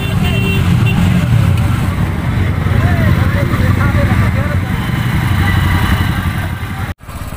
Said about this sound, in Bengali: একেবারে বাইকে বাইকে ট্রাফিক জ্যাম।